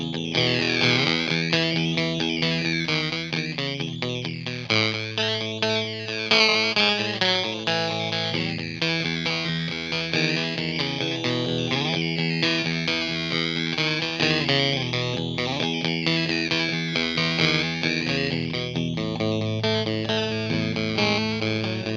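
A PLBR Effects Pizza Crusher guitar effects pedal in mode 2 processes electric guitar into a heavily distorted, warbling sequence of sustained chords with sweeping pitch modulation, loud and continuous with no talk.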